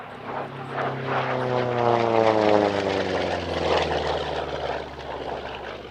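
A military aircraft flies past at the Italian Air Force centenary airshow. Its engine drone swells and fades with a clear Doppler pitch shift as it passes fairly close, loud and without talk.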